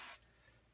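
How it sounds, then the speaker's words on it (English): A short hiss of cleaner sprayed onto a Q-tip during repair of a Craig TR-403 reel-to-reel tape recorder, one quick close burst that stops abruptly and leaves a quiet room. "I'll spray just a little bit on the tip"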